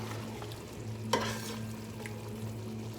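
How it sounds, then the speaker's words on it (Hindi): Chicken jalfrezi with hot sauce frying over high heat, a low steady sizzle with a brief stirring scrape in the middle, close and fairly quiet, with no talk. "फ्राई कर लेंगे।"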